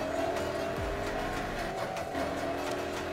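A car in the PS4 racing game Need for Speed drones along with a steady, sustained engine note and some faint tire noise, continuous and fairly loud throughout.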